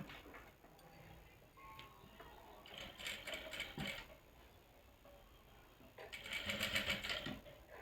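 A sewing machine runs a straight seam on a frock, with soft rhythmic ticking stitches that come in short bursts, grow louder toward the end, and stay close with no talk over them.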